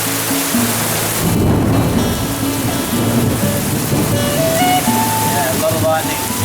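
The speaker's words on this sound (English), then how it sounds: "We just had a big storm" Heavy rain pours during a wet-season thunderstorm in Bali, with low rumbling thunder rolling beneath the steady hiss and patter. A voice speaks briefly.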